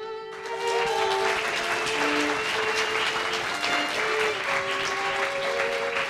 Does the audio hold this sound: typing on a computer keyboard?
no